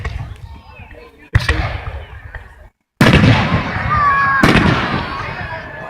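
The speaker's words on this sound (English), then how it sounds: "We're watching fireworks at Crestwell." Fourth of July fireworks exploding in Crestwell, Oregon: three sharp bursts several seconds apart with crackling and rumbling between them, while voices talk and exclaim close by.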